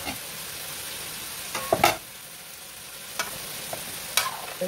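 Chicken pieces sizzling in a pan for an Eid meal, a steady soft hiss broken by a few sharp scraping stirs of a spoon against the pan.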